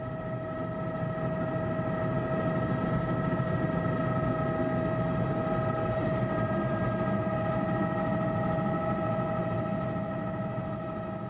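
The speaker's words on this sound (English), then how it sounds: "Inside modern customized Bell helicopters, the passengers swoop along the Zambezi River" A steady, droning engine and rotor hum from a customized Bell helicopter flying along the Zambezi River, heard from inside the cabin, with constant tonal whine and no letup across the full stretch.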